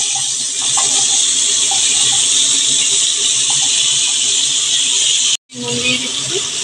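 Potato pieces fry in hot oil left over from frying prawns, making a loud, continuous sizzling hiss that cuts out briefly near the end and then resumes.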